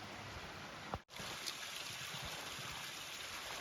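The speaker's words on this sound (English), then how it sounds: "More water off the side of the mountain." Water runs off the side of a mountain along a trail, a steady soft rushing trickle heard faintly throughout with one brief dropout near the start.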